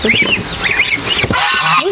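Geese on a farm honking loudly and close, several nasal honks overlapping in quick bursts.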